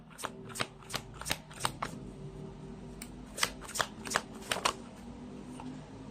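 Tarot cards being shuffled and riffled close by, a run of sharp crisp snaps and flutters in irregular bursts over a low background hum, with no voices.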